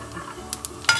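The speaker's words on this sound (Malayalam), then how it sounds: "നമ്മുടെ കടുക് പൊട്ടി തുടങ്ങിയിട്ടുണ്ട്" Mustard seeds splutter in hot oil during a tempering, a few sharp pops and crackles over a quiet sizzle, with the loudest burst near the end.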